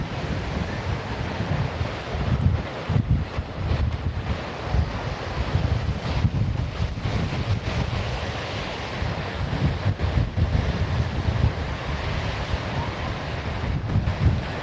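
Stormy sea surf crashes continuously onto Sofia beach in Anapa while strong wind buffets the microphone, a steady dense roar with no voices.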